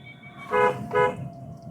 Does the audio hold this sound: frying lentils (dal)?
no